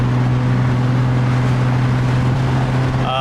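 Steady droning hum of a car engine fitted with an upgraded turbo, running at low RPM, loud and continuous with a constant low tone and faint wind noise, no talking.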